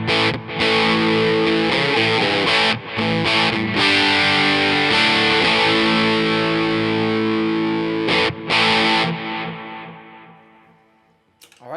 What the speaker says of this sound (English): I'll just kick the delay back in.